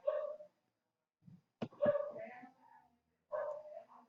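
A dog yelps and whines in a few short, separate bursts, close by and clear against a quiet room.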